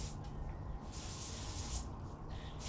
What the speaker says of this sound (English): I'm just going to spray that real quick while it's laying here in the sun.